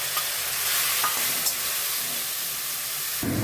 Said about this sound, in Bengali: অল্প করে তেল দিয়ে এই মোচাটাকে আমি দিয়ে দিলাম